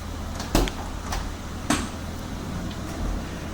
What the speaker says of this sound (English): we can go ahead and we can operate the sliders